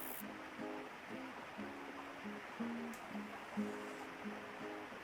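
Water gushes steadily in a point-and-click adventure game scene, a continuous rushing hiss with soft tonal game music pulsing underneath, fairly quiet and even throughout.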